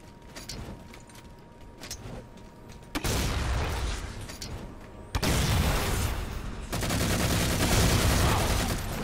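Sustained automatic gunfire and explosive bursts from a Halo custom multiplayer match, loud and dense, with abrupt jumps in intensity as a grenade blast lands amid the shooting.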